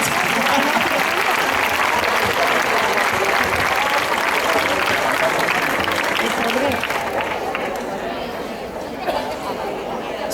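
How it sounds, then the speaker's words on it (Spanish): Outdoor audience applause for performers at a folklore music festival held in hot weather: sustained crowd clapping mixed with chatter, steady for most of the stretch and then thinning and fading toward the end. "un aplauso que están aguantando ahí en el calor, por favor"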